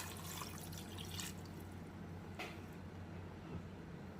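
Water is poured into a casserole pot in a Ninja Speedi cooker holding steamed chicken, broccoli and soup mixture, giving faint, quiet trickling and splashing with a few small drips.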